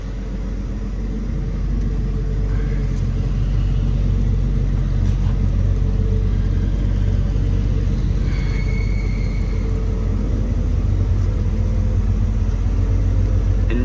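A 1965 Ford Mustang engine droning steadily from inside the car while driving, a loud, constant low rumble with slight rises in revs and no talk.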